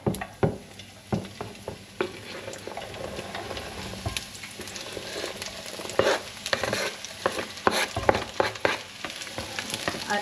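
Red cabbage frying in a pan, a steady close sizzle with stirring clatter and scrapes from a utensil running throughout, no talking.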